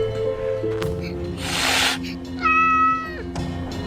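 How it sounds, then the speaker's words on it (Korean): A cat meows in a Korean historical drama scene, one drawn-out meow standing alone over a musical background with a short rustle before it. "세조가 걸음을 떼지 못하게 버티고 선 고양이."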